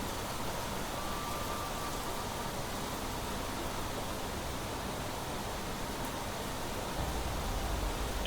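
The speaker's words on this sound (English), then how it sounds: "And now it's raining." Steady rain falls in the survival game The Planet Crafter, a continuous even hiss of drops with no voices and no break in intensity.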